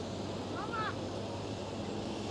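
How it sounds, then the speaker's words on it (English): Air China Cargo Boeing 747-400 at Amsterdam Schiphol, a steady, broad jet roar heard from a distance, continuous throughout with a faint whine rising briefly. "Air China Cargo 747-400 with a KLM 737 in the front and ITA A320neo"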